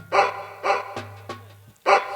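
A tied-up dog barks three times, loud and close, with sharp spaced woofs separated by short pauses and brief knocking sounds between them.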